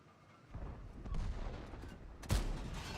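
IS heavy tank gun firing in World of Tanks, a faint muffled boom followed by a sharper, louder blast near the end over low background rumble.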